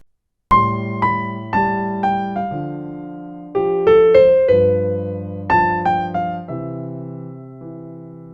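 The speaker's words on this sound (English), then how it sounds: "Let's start by octavating the melody up and down on the keyboard." Piano playing a song melody in different octaves over held bass notes, phrases of distinct struck notes stepping downward, after a brief silence at the start, close and unaccompanied by talk.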